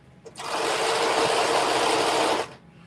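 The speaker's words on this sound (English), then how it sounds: "for the first stitch, you're going to sew all the way around" A sewing machine runs one continuous burst of about two seconds while stitching around an elastic casing, a loud, even motor whir that starts and stops abruptly.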